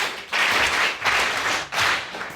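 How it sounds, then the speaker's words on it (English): A conference luncheon audience applauds its panelists, a broad wash of clapping that swells in several waves over a couple of seconds, moderately close and steady, with no voices over it. "Can we please give our panelists a round of applause?"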